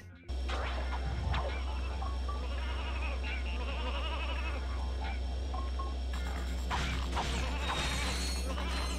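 Sheep bleating in a video game, several short bleats heard among clattering game effects and a steady low hum, with a person talking over them.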